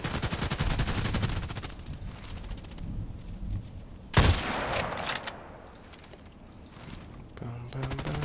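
Gunfire in the shooter game Contract Wars: a dense run of rapid shots early on, a sharp loud burst near the middle, then quieter scattered rounds with a voice talking over parts of it.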